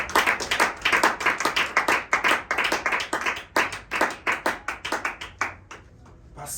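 A church congregation claps in a steady, brisk rhythm during a service, many hands together and loud throughout, before thinning out and stopping near the end.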